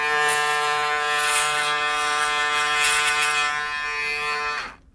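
An electric shaver runs with a steady, close, bright buzzing hum for several seconds, then switches off and falls quiet at the end.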